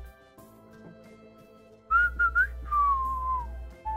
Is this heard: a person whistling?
yes